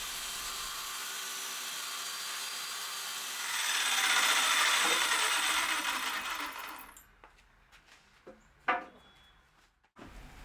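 A saw cuts along the edge of a live edge wood slab, guided by an aluminum extrusion; a rising rasping whine swells mid-cut then stops, followed by quieter knocks and a sharp clack.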